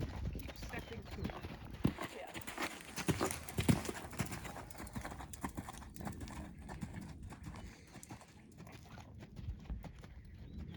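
A horse canters in a flat-work riding lesson, its hooves thudding in a steady, fairly close rhythm under an instructor's occasional voice.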